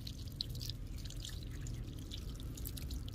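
Water is poured to soak plants, a faint, steady splashing trickle with no talk over it.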